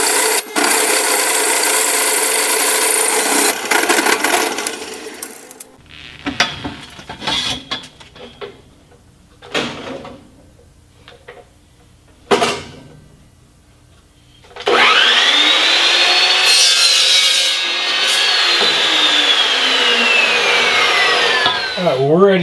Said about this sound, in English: we're going to put our hole saw like that. One edge of the hole saw is going to cut there.